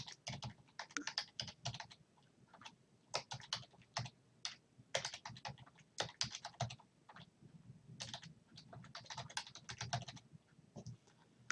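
Quiet computer keyboard typing comes in quick irregular bursts of clicks with short pauses between, close and alone without talk.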